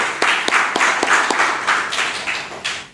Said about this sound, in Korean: 우리 이 시간 하나님께 다시 한번 영광의 박수를 올려드렸으면 좋겠습니다